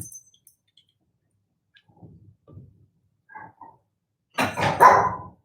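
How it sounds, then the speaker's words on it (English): A dog gives a short burst of barks near the end, loud and fairly close, after a few faint quieter sounds in an otherwise quiet room. "okay, there you hear the dog."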